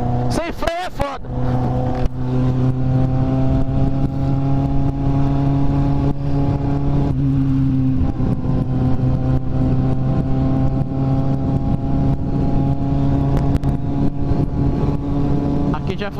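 A green Kawasaki Z750 motorcycle engine roars steadily and loud in city traffic, with sustained low harmonic drone throughout and a brief rev near the start.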